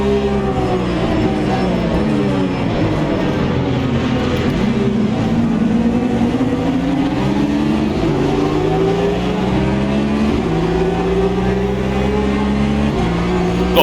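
A field of race cars, including Ginetta G50s, Porsche and McLaren models, drives in Automobilista 2, with loud continuous engine drone and rising and falling revs as the cars accelerate and shift, no voices over it.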